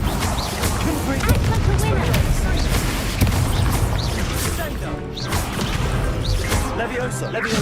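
Confringo spell blasts in Hogwarts Legacy, a dense run of booming crashes and whooshing impacts with layered game effects, loud and continuous, with a voice speaking over parts of it.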